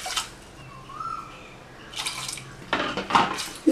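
Water is poured onto green gram in a pressure cooker, coming as a few soft splashing bursts and trickles, close and fairly quiet, with short gaps between pours.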